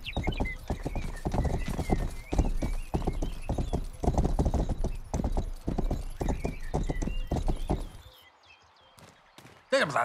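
Horse hooves clip-clop steadily at a ridden pace in the western video game Rustler, with a neigh near the end and brief speech mixed in, the hoofbeats loud and close before stopping abruptly.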